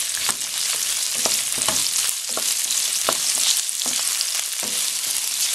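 Pork and onions sizzle steadily in a hot pan for a Filipino ginisang toge, with repeated sharp stirring scrapes cutting through the constant frying hiss and no talking.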